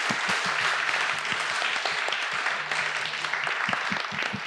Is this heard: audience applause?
yes